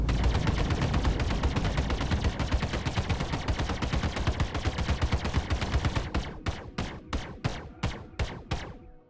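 An upgraded Ghost Hornet in Star Citizen fires all four guns in a loud, dense rapid-fire stream that slows into distinct separate punchy shots with sharp decays near the end.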